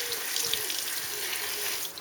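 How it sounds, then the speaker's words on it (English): Low-pressure water stream rinsing a car brake disc and caliper, a steady hissing spray with splashing, close and continuous with no talk. "just rinse it out. Up inside there, not too much pressure"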